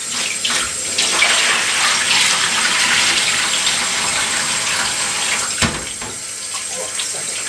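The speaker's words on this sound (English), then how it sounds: "And I'm using cold water here, guys, and it is freezing." Cold water runs steadily from a kitchen tap into a sink, a continuous close splashing gush with a brief clunk near the end.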